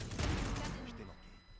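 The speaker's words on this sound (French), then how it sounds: "Explosion du spike." The spike in Valorant detonates in a broad, booming blast with a heavy low rumble that swells and then decays into a fading tail, loud in the mix, and a voice talks over part of it.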